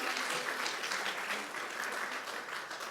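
Sustained, dense applause from an audience at a Longaberger homecoming celebration, steady and full for the whole stretch with no pauses.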